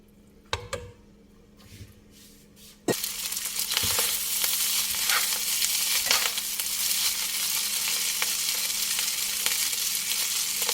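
Spaghetti goes into a pan of simmering mushroom truffle cream sauce with pasta water, bringing a sudden loud sizzle and bubbling that continues steadily with occasional stirring scrapes; no one speaks.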